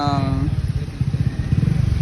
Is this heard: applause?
no